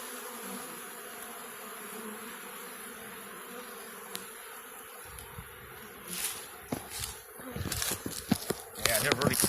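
Honey bees buzz steadily around hives while a beekeeper feeds them ahead of winter, a continuous moderate drone with handling noises and brief rustles growing louder toward the end.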